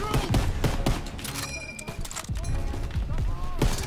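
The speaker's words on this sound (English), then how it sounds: "the sound of the M1 Garand is so sweet" M1 Garand rifle fire in Call of Duty WWII during a wartime battle, sharp close shots scattered among busy combat noise and a metallic ping, with a player talking over it.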